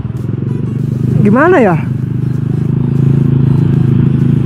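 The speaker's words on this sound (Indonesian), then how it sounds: "BTW ini knalpot kedengeran gak ya suaranya ya?" A motorcycle fitted with a cheap custom stainless steel exhaust rumbles steadily and close by throughout, with a deep, even engine tone, while someone briefly speaks over it partway through.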